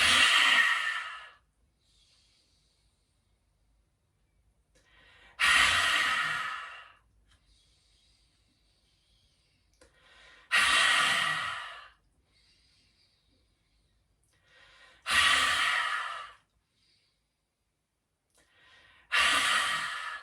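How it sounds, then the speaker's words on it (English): Slow, deep breathing exercise with forceful open-mouth exhales, tongue out, as four or five long breath cycles repeat at steady intervals, close and clear, with quiet gaps between each breath. "Exhaling out of the mouth, stick out the tongue. I'm going to just do this for a few rounds."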